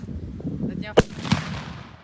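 A single sharp New Year's Eve firecracker bang, fairly close, followed by a fainter second pop, with muffled background noise and murmuring around it.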